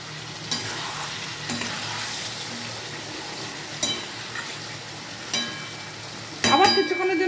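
Whole green chillies go into a pan of rohu fish curry with potatoes and ridge gourd. A steady low sizzle runs throughout, broken by several sharp spoon and pan clanks as it is stirred, and a louder spattering burst comes at the end.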